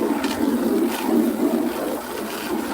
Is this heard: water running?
yes